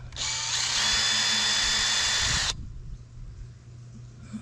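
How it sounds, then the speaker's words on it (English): A power drill bores back into the same hole while testing a leak-fix product, whining loud and steady for about two and a half seconds before cutting off, leaving a quiet background. "I'm re-drilling it."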